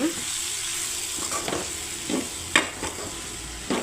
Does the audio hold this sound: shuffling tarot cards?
no